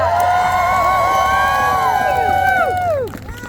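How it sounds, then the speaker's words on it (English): A large crowd at an outdoor rally cheers, whoops and shouts loudly and steadily in a dense roar that fades slightly at the end. "Everybody give yourselves a round of applause!"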